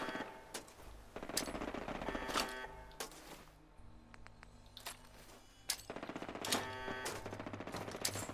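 Video game gunfire against sentry bots, scattered loud shots and short bursts separated by gaps, with clicking mechanical game sounds in between.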